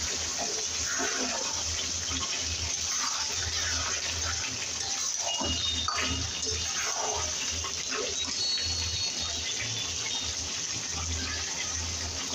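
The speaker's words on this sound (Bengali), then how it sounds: "এবার পরিমাণ মতন জল দিয়ে দেবেন" Water poured into a simmering papaya chicken curry, a continuous gushing, splashing wash that runs steadily for the whole stretch with low rumbling underneath.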